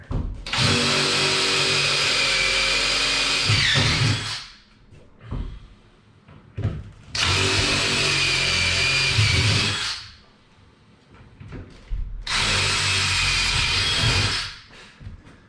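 A power drill pre-drills holes in concrete countertop form boxes in three loud, close bursts of about three seconds each. Short pauses between the bursts carry faint handling clatter.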